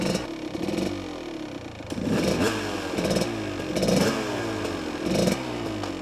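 A Kawasaki KDX 200 dirt bike engine runs close by, a loud rasping two-stroke drone that rises in several short revving surges with a clattering edge, with no talk over it.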